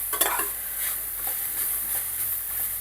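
Grated carrots for carrot halwa fry in a pan over low heat, giving a steady close hiss and sizzle with soft stirring scrapes throughout, no voices.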